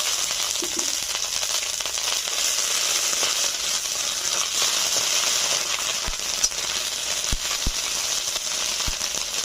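Black cumin seeds and ginger paste frying in hot oil in a village kitchen, a steady close sizzle with no voices and a few faint clicks near the end.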